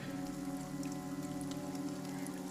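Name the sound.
rain falling outside a cafe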